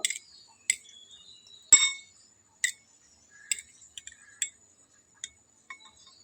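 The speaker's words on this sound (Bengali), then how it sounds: "আর চামচটা দিয়ে ডিমটা খুব ভালোভাবে কোট করে নেব" A spoon clinks against a bowl while bread is coated in egg, a series of bright, sharp metallic taps spaced irregularly, some single and some doubled, close and clear against near silence.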